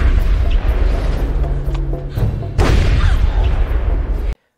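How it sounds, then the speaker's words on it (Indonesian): Gunfire in a scene from the crime drama The Mentalist, with a lakeside shooting: heavy booming shots and thuds over a dense, loud soundtrack, ending abruptly. "Pak Wills menembak mereka."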